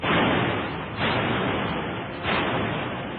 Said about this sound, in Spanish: Los cañones españoles cargan y apuntan hacia la flota británica.